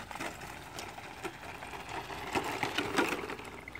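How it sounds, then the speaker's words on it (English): Traxxas 4Tec 2.0 Ford GT RC car running on bumpy dirt, giving a steady whirring drivetrain noise with scratchy scraping bursts that peak near the end, close and fairly loud. "It's kind of scraping in there."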